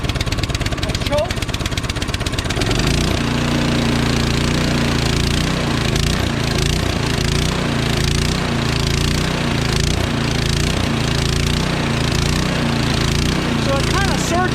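A Troy-Bilt Storm 2620 Powermore 26-inch two-stage snowblower engine runs steadily and loudly in cold 28-degree weather, starting with a rough hard-pulsing start before settling into a continuous drone that rises and falls slightly as it surges.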